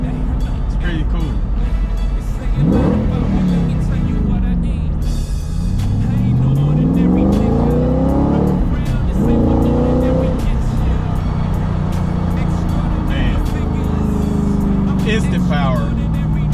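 A 2013 Shelby GT500 accelerates hard, its loud engine rising in sweeping surges through the gears, close and continuous, with brief crackling exhaust pops between pulls.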